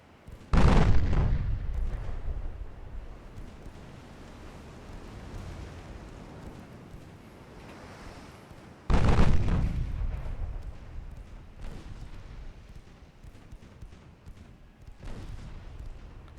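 Twin-turret 8.9-inch naval guns fire in a naval warfare game: two heavy booming salvos several seconds apart, each with a long rumbling decay, followed by a lighter distant report near the end.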